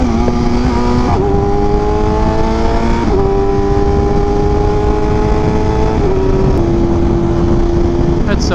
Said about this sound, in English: This exhaust sounds crazy.